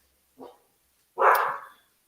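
A dog gives two barks in an indoor setting, a short soft one followed by a louder, longer one, heard alone and close by with no talking.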